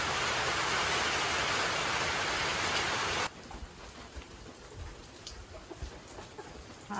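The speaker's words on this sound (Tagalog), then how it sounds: "Ulan gihapon guys." Heavy typhoon Basyang rain pours down as a loud, even hiss for several seconds, then suddenly drops to a lighter patter of drops with faint thuds nearby.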